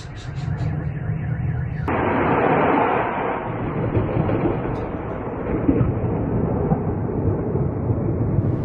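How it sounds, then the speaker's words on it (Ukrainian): Continuous loud rumbling and crackling roar of explosions and fire during an attack, with a sharper burst opening the clip and steady heavy noise throughout. "Усе довкола вибухає і горить."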